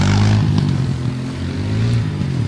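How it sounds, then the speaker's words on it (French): A quad bike engine pulling away, a steady loud low-pitched drone with a slight rise in revs, continuous and close for the whole stretch. "On profite pour fuir avec le quad."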